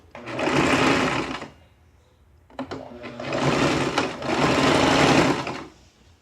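A sewing machine stitches a seam on a draped jacket in two loud close bursts of fast whirring, the first about a second and a half long and the second longer, separated by a pause with a few light clicks.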